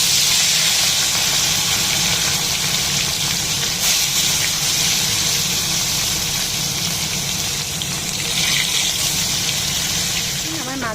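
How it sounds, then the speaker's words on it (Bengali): Pieces of katla fish, a freshwater carp, sizzle and hiss steadily in hot oil in a wok for home-style frying, a dense loud crackle that runs continuously from start to finish. "আমি এবার মাছগুলো একে একে ছাড়বো।"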